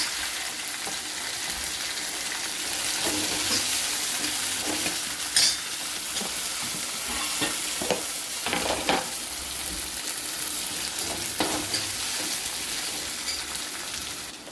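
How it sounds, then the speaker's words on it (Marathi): Tomato tipped into a pan of drumstick curry with fried coriander and curry leaves, a steady close sizzle of frying with scraping stir strokes and occasional clinks of a spoon against the pan. "टमाटर टाकून घ्यायचा आहे."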